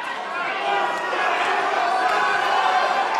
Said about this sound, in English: the crowd willing both fighters home in the final stance